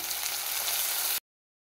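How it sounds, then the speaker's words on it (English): Tomatoes frying with onions in a pan, an intense close sizzle with a bright steady hiss that cuts off abruptly after about a second, no voices. "At this point, I'll add my tomatoes."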